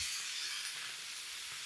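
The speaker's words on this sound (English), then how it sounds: "So all I'm going to do is brown this. I do want to get that char on it" Meat browning in a hot pan for taco night, giving a steady, broad sizzle and hiss close by, constant throughout with no talking.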